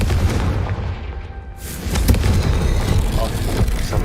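A Confringo fire spell goes off in Hogwarts Legacy, a loud, sudden broadband blast around the midpoint that then roars on as a sustained fiery rumble beneath the game's continuous battle noise.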